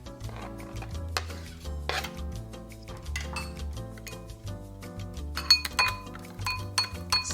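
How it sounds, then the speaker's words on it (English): Instant ramen mixed with grated garlic, white sesame seeds and chopped green onion is stirred in a bowl, with clinking utensil and dish taps in quick irregular bursts, close and fairly quiet, no talking. "Stir well until combined."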